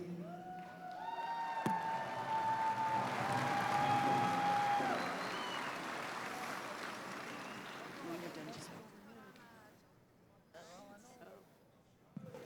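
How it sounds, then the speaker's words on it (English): A large powwow crowd at the Gathering of Nations applauds Cheyenne, Miss Indian World, with steady clapping that swells and then fades, mixed with voices and faint whoops across the arena. "let's give Cheyenne a big round of applause"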